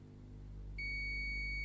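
A digital multimeter on continuity mode gives a steady high electronic beep while its probes test a transistor from a faulty Li-ion and LiFePO4 battery charger, starting partway through over a low hum.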